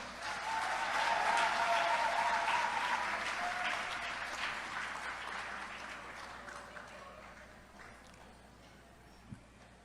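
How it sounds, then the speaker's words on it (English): An audience bursts into hearty applause at a community gathering, the clapping strongest at first and then tapering gradually, fading toward near quiet by the end. "You deserve a hearty round of applause"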